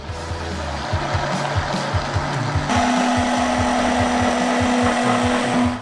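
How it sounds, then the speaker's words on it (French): An immersion blender churns oil into homemade mayonnaise, a loud, close motor whir with a rhythmic pulsing churn; the motor pitch jumps higher midway and then runs steadily. "Et plongeons le mixeur dans le fond."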